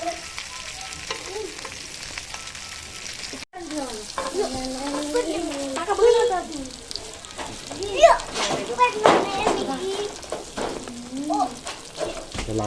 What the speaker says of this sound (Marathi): त्यानं बघा कसं फ्राय चाललाय